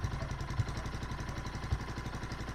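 A Bajaj Boxer motorcycle engine running at a steady idle, an even low chugging pulse with light mechanical clatter, fairly quiet and close.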